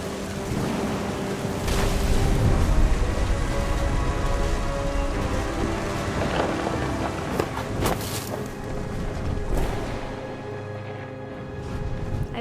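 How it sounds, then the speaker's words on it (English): Steady rain pours on surfaces in What Remains of Edith Finch, a dense continuous hiss with scattered drops and a soft low rumble of thunder underneath, fading slightly toward the end. "The thunder sounded much too close and full of angry power."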